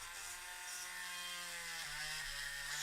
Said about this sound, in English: we're gonna try to drill a little bit of a larger hole